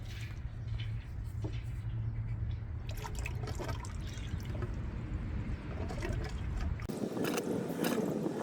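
Coolant is drawn out of the reservoir of a 2016 Toyota Highlander through a transfer tube, making quiet, close gurgling, dripping and trickling that turns into a brighter, splashier flow near the end.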